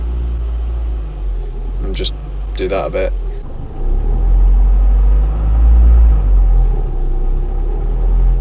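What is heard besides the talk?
car engine rumbling from inside while pressing the gas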